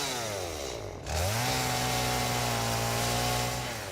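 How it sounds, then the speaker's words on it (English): A chainsaw in the game Satisfactory revs up loudly after a brief dip and holds a steady, droning whine while cutting down a tree, close and continuous with no talk. "We'll chainsaw down this tree."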